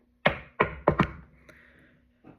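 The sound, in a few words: knock on a door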